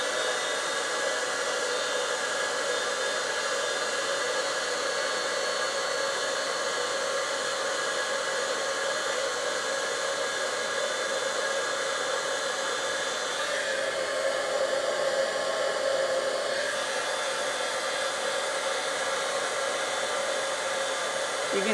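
A heat tool blows a steady, loud whooshing hum for the whole stretch while melting embossing powder on a card, with only a slight shift in tone partway through.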